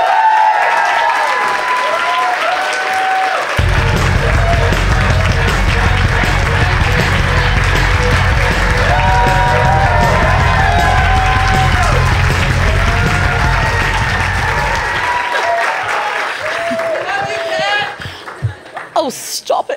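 Audience applause welcomes Congresswoman Kat Cammack at a live event, a loud, steady wash of many hands clapping that swells, holds for over ten seconds, then tapers off, with cheering and voices mixed in.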